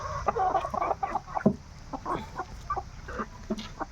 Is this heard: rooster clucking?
yes